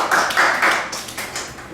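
Students in a classroom clap in a quick run of close, bright hand claps, several bursts in uneven rhythm that gradually soften, with no voices over them.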